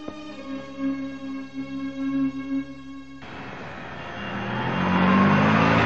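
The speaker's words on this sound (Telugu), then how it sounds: "వెనకాల లారీ రావడం కూడా తెలియకుండా అంత పరాగ్గా వెళ్తున్నారు" A lorry approaches from behind on a road, a steady engine tone that swells into a loud, broad rushing roar as it draws close, with no talking.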